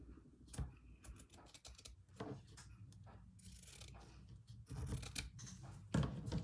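Small scissors snip embroidery fabric in a series of close, crisp cuts with irregular pauses, alongside light handling rustles, no talking.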